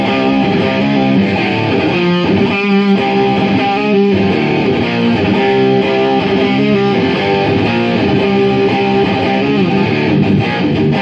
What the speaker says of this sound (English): going with some distortion now